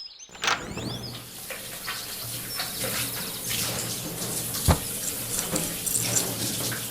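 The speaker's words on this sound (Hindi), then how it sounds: "लगता है पानी चालू रह गया।" Indoor water tap left running, a steady splashing rush that goes on throughout at moderate volume, with a few knocks and clunks and faint chirping in the background, and no speech.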